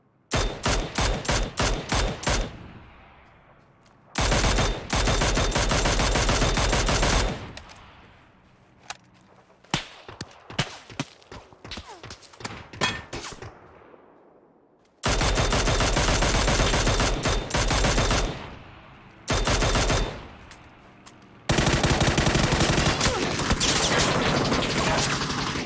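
Gunfire in PUBG: rapid bursts of automatic fire, sharp repeated cracks in quick rhythm, then long loud sustained sprays broken by short pauses and scattered single shots, close and loud.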